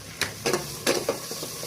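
Ginger, cumin and garlic paste hits hot oil in a pan and sizzles in short bursts while being stirred, with a few soft scrapes of a utensil.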